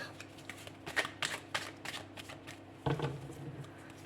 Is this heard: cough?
no